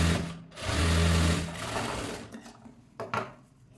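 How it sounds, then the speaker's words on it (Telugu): A sewing machine stitches a folded hemming strip on a blouse in one quick, close, whirring burst about a second long, followed by quieter handling of the fabric and a few soft knocks. "దీన్ని ఫోల్డ్ చేసుకొని హెమ్మింగ్ పట్టీని స్టిచ్ చేసేసుకోవాలి."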